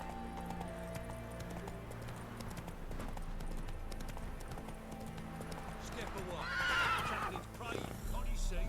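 Roach, a horse in the video game Witcher 3, gallops with rapid rhythmic hoofbeats under game music and a voice, then gives a loud whinny near the end before the hoofbeats resume.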